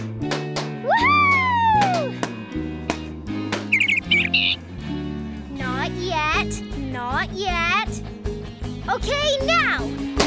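Cartoon green birds chirping in a children's animated show, a series of bright rising and falling tweets and whistled calls over a bouncy music score, with characters talking at points.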